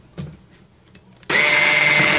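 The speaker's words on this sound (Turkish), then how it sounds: "Ve krem şantim koyulaşana kadar çırpıyorum." An electric mixer whips cream with cold milk, starting abruptly after a few faint clicks and then running loud and steady with a high, even whir.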